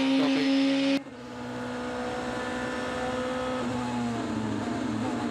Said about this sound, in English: from here on in, it's full throttle flat all the way to the chicane